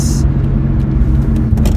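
Nissan Skyline R32 with a small turbo pulls hard under acceleration, a loud continuous engine drone with rising low rumble, and a person talks over it.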